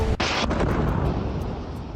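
An explosion from an Israeli missile strike on Beirut, a single sudden loud blast followed by a rumbling, decaying roar.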